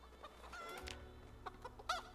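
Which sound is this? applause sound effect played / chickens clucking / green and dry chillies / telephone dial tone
chickens clucking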